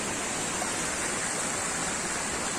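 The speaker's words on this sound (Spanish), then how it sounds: "Caminar y escuchar el agua." Water rushing at the Llobregat river springs in Castellar de N'Hug makes a steady, dense hiss close by, filling the whole stretch without pause and with no voices.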